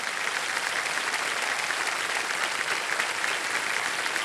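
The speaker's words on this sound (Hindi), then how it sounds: "तो एक बार फिर जोरदार तालियां बज जाए स्नेहा जी के लिए" A studio audience on the KBC game show claps for contestant Sneha, a dense, steady wash of applause held at even loudness throughout.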